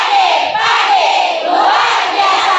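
A large live audience claps and cheers loudly and continuously at a morning seminar, the broad crowd roar filling the whole stretch without pause, with a few voices rising through it.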